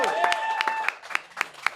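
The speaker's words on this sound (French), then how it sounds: "On applaudit très, très fort Geneviève Janson!" A studio audience on a sports-themed talk show claps loudly in sharp, separate bursts that fade toward sparse individual claps, while a voice and excited whoops overlap at the start.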